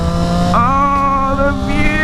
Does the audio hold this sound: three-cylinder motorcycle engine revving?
yes